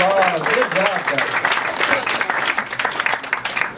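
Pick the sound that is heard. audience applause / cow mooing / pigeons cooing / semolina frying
audience applause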